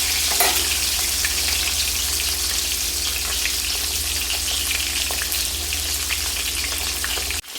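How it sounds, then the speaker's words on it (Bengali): Rohu fish heads fry crisp in hot oil, a loud, continuous crackling sizzle close up with a steady low hum underneath, stopping abruptly at the end. "তো মাছের মাথাগুলো একদম কড়া করে ভেজে তুলে নেব।"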